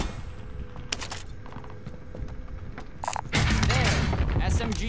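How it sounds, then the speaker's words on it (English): A claymore mine is set down in a battle royale shooter, giving a few mechanical clicks and rattles before a louder burst of gunfire-like clatter. Game sounds layer over it. "Placing claymore."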